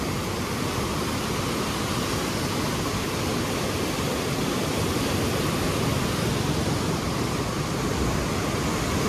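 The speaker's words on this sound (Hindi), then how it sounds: "चारों तरफ पानी ही पानी है।" Water from the Koshi River rushes loudly and steadily through the open gates of the Koshi Barrage at high water, a constant roaring wash, dense and unbroken.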